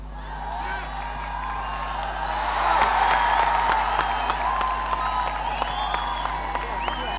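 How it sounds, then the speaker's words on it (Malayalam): A large crowd roars and cheers in a football stadium after a goal in a Kerala Police match, a broad sustained swell of voices and whistles that peaks and then carries on steadily. "സ്റ്റേഡിയത്തിൽ വീണ്ടും ആർപ്പുവിളി"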